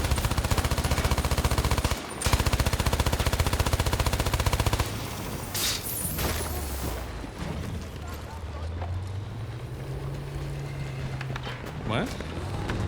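Rapid machine-gun fire in Battlefield 2042 rattles loud and continuous for about five seconds, pauses briefly, then gives way to scattered shots, engine rumble and a rising tone, with a voice talking over parts of it.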